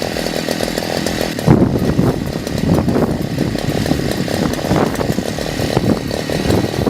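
A gas-powered earth auger engine runs loud and close while its idle screw is adjusted. The steady, buzzy two-stroke drone continues throughout with slight shifts in pitch and no talk.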